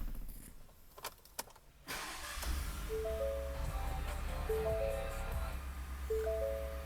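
A black 2020 Ford F-150 XLT starts with a short whirring crank, then catches into a steady low idle. A few clicks come before it and repeating electronic chimes sound over the running engine.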